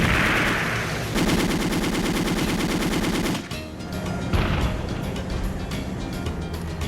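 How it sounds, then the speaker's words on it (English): Machine guns firing at an A6M5 Zero fighter in a long rapid burst of loud, evenly spaced shots, then a pause and a rougher, more distant rattling volley. "a quick burst of firepower from their machine guns"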